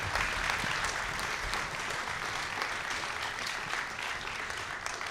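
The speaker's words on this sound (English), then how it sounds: "one more round of applause for the Wind Ensemble" Steady audience applause for a school wind ensemble at a spring concert, dense and sustained throughout without pause.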